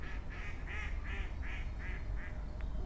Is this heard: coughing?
no